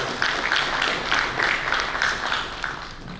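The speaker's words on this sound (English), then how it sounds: "I think we should recognize a round of applause for" An audience at a panel discussion applauds in a steady, fairly close wash of hand claps with faint rhythmic peaks, without any voices over it.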